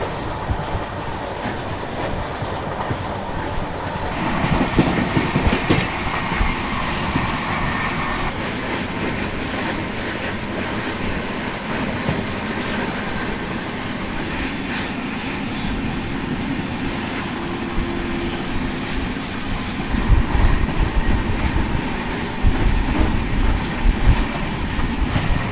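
A Jaipur–Mumbai superfast passenger train runs at about 120 km/h, heard from inside as a steady loud rumble with rail clatter and occasional swells, continuous throughout.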